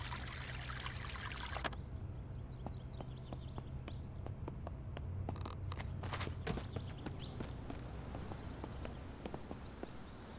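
A tap in the zombie survival game Vein is running as a loud, steady stream and then shuts off, leaving a quiet stretch with scattered soft footstep-like taps.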